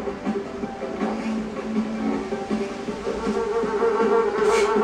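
A bee in the video game NinjaBread Man buzzes steadily in a droning hum over layered game music, holding at a fairly even level throughout with no talking.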